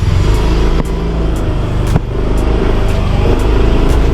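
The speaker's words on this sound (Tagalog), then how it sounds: "Ang galing pa rin yung motor" A motorcycle engine runs steadily and loud up close while riding, a constant droning rumble with small shifts in pitch and no voices over it.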